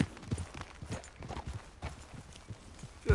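Horse hooves in Red Dead Redemption 2 clip-clop at a steady walking pace, fairly close and moderately loud, with no talking over them.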